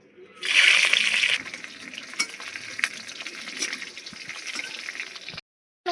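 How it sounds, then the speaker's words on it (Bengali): Prawns hit hot oil with salt and turmeric, bursting into a loud, crackling sizzle that eases into softer frying with scattered pops and stirring sounds before a brief cutoff. "নুন হলুদ দিয়ে আমি চিংড়ি মাছটাকে ভেজে নেব"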